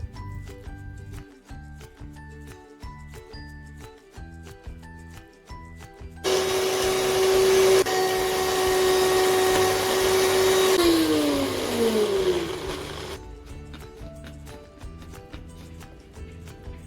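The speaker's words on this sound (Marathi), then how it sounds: "सोललेला लसूण मिक्सरमधनं बारीक करून घेणे।" A kitchen mixer grinder whirs loudly for about seven seconds while grinding peeled garlic cloves, then winds down with a falling pitch. Steady background music plays before and after the grinding.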